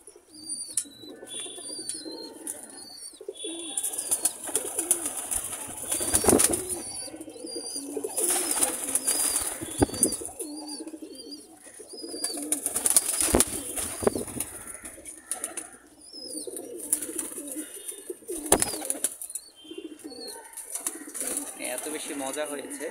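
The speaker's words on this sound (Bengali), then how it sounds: "এত বেশি মজা হয়েছে যে কবুতর কাড়াকাড়ি করছে।" Pigeons scramble over a feed of cauliflower and cabbage, with soft cooing, bursts of wing flapping and scuffling close by, and voices talking at times.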